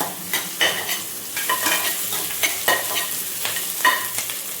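Onions sizzle and fry in a pan, with repeated scraping stirs of a spatula breaking up a steady close crackle.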